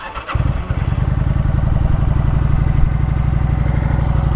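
A Kawasaki Vulcan 900 motorcycle with sidecar cranks briefly and fires up, settling into a loud, close, steady idle with rhythmic exhaust pulses and stock exhaust.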